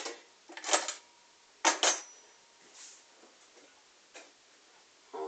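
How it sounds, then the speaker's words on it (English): A kitchen knife chops mushrooms on a board in short, crisp taps, some in quick pairs with pauses between. The taps are close and clear, and no talk is heard over them. "I am just cutting up some mushrooms."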